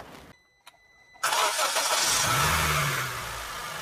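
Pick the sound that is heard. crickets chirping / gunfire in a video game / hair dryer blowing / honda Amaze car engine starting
honda Amaze car engine starting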